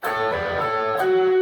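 A short electric guitar figure: ringing double-stopped notes, with a hammer-on and pull-off change near the end that sustains cleanly.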